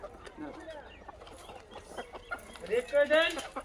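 Local chickens cluck faintly at first at a market, growing louder near the end, mixed with indistinct voices in the background.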